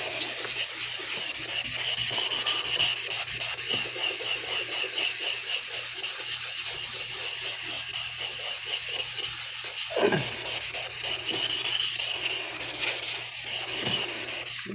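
Suehiro sharpening stones are being flattened and cleaned, a continuous gritty rubbing and scraping of stone on stone that stays steady and close, with a short sloshing scrape near the end.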